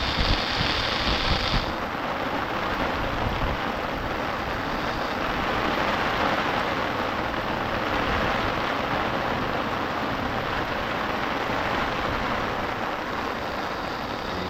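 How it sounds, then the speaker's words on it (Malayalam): Steady, dense night rain hisses continuously in a forest at Udumbum Kunnu, Mayyil, with no let-up, a broad wash of noise throughout with no voices. "നല്ല മഴയുണ്ട് കേട്ടോ ഏതായാലും മഴ കേട്ടോ"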